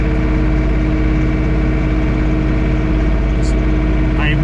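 A John Deere 3 Series compact tractor engine idles steadily at close range, a loud constant mechanical drone with a faint brief squeak near the end.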